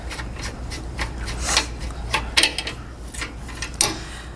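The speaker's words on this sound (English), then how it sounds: "simply find the valve cap and unscrew it by turning it to the left" A euphonium valve cap is turned loose by hand, giving a series of faint, close metallic rubbing and scraping strokes in an uneven rhythm.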